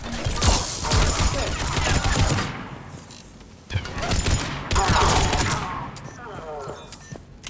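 Heavy gunfire during a Mass Effect 3 firefight on Omega, loud and close, with rapid overlapping bursts and impacts in two intense waves separated by a brief lull, with voices faintly mixed in.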